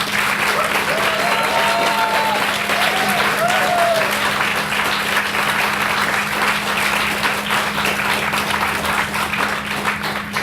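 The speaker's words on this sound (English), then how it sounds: "Please give them a round of applause." An audience at the Edinburgh International Book Festival applauds performers after staged plays, a long, loud, steady roar of clapping with a few brief voices rising near the start.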